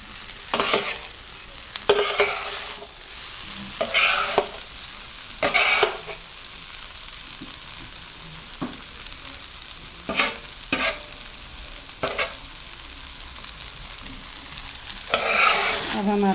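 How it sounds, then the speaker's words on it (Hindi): Tawa pulao rice is fried and stirred on a griddle over medium heat, a low steady sizzle broken by loud bursts of metal scraping every couple of seconds, close by with no voices. "और अच्छे तरीके से मिक्स करके आपने चंद सेकंड के लिए इसको छोड़ देना है।"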